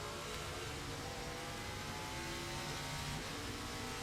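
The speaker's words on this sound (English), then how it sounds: "he takes his right foot and rolls it over on the throttle to bring the RPM of the engine up to match his downshifts" A NASCAR Nationwide race car at the Montreal circuit during final practice, its engine roaring and blipping through heel-and-toe downshifts, a dense, distant-sounding rasp with rising and falling revs throughout.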